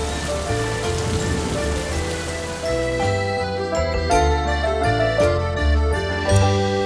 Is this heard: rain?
yes